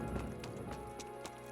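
Horse hooves in the medieval game Kingdom Come Deliverance at night, a steady clip-clop of footfalls fairly close over a dense bed of game music and ambience, lasting a short moment.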